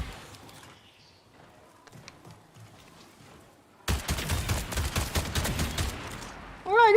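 Pistol gunfire in the video game Marathon: quiet game noise for a few seconds, then a sudden burst of loud rapid shots and clattering impacts that fills the second half, ending in a sharp electronic warble.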